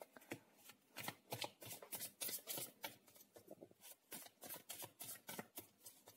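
A tarot card deck is riffled and shuffled by hand, producing a quick, steady series of crisp flapping bursts close to the listener, with no voice over them.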